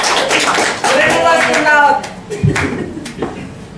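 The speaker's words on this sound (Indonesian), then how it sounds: "Tepuk tangan dulu biar nggak ngantuk." Audience clapping at a hospital health seminar in a Yogyakarta hotel, a burst of hand claps mixed with voices and speech over it, dense for about two seconds before thinning into a few scattered claps.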